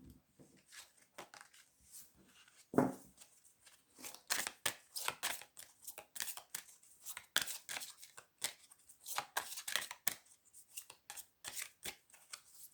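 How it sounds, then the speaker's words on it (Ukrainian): Crisp slaps of cards being dealt one after another onto a table, in small rhythmic groups, close and fairly quiet. "Додаємо ще чотири карти"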